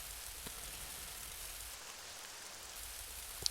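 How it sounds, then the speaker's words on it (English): Steady rain falls in the PC game The Movies, a continuous even hiss of raindrops with no voices, holding at a constant level and ending on a brief sharp tap. "It's still raining."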